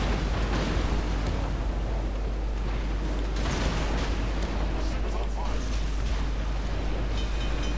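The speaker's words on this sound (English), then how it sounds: "Oh, that's a nice torpedo hit." Heavy explosions and artillery-like booms from a torpedo hit in the naval combat game World of Warships, with a Angler-class submarine on the battlefield, forming a loud, continuous rumbling barrage with a voice murmuring underneath.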